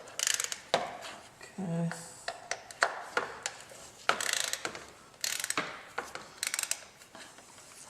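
A ratchet wrench loosens ignition coil bolts on a Mazda CX-9 engine in a series of sharp metallic clicks and taps with uneven pauses, close by, and a voice speaks briefly over the work.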